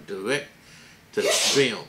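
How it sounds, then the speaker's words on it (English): A sharp, loud sneeze bursts out after a man's brief speech, with a short breathy intake before it. "My wife just sneezed."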